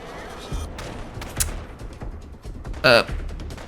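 A few scattered gunshots crack out in Fallout London, sharp and fairly distant, separated by quiet gaps, with a brief louder burst near the end and a voice briefly present.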